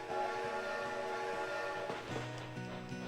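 Train in the Animal Crossing video game, a steady rumbling ride with a sustained tonal hum and a shift in pitch near the end, fairly quiet and uninterrupted.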